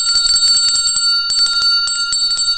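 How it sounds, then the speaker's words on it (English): A bell rung repeatedly in quick bursts to mark a Caribbean American News broadcast from Saint Lucia, loud and bright with lingering ringing tones and short pauses between volleys. "we can ring the bell."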